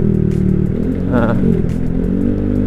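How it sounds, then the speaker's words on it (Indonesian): A bored-up Honda Vario scooter engine runs loud and close with an uneven, stuttering idle that briefly falters as if about to stall, then keeps running. "tadi tuh sempat berbet dikit tuh, sempat mau mati tapi mesinnya nggak jadi hidup lagi gitu"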